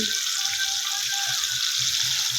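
Fish frying in a pan over lowered heat, a steady crackling sizzle filling the whole clip with soft low bubbling pops underneath, close and continuous with no talking.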